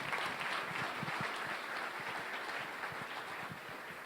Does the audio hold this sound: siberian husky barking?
no